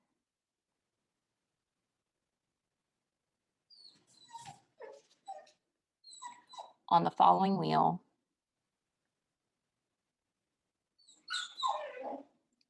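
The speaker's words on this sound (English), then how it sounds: "Apologize for my puppy in the background." Puppy whimpering and yipping in short, faint bursts behind a person talking indoors, with a louder whine in the middle and another brief cry near the end.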